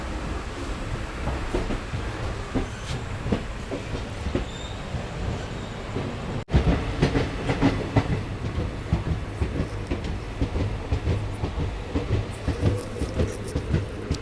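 A night passenger train on the Digha to Kolkata route rumbles along at speed near Patipukur station, its wheels clattering rhythmically over the rails with steady rolling noise and occasional squeals.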